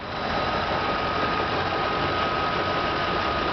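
A 2008 Lincoln Mark LT truck's 5.4-litre Triton engine idles steadily and evenly at close range, a low continuous rumble with a faint whine running through it and no talking.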